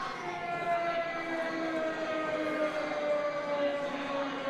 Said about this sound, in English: Sirens wailing throughout the hall.